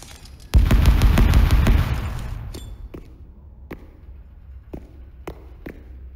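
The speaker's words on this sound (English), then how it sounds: "Splinter grenade out." A splinter grenade in the shooter game Spectre Divide detonates with a loud close blast that rumbles and decays over about two seconds, followed by several sharp, sparse pops or fragment impacts scattered through the quiet tail.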